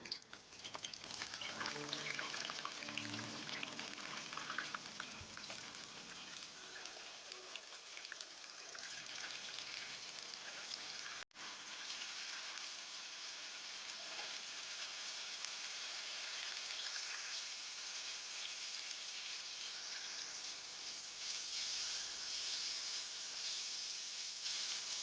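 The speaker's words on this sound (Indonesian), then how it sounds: "Minyak sudah panas, sekarang akan saya masukkan terong." Loud, steady sizzle of eggplant frying in hot oil, a dense crackling hiss that starts busy and settles into an even roar, no talking.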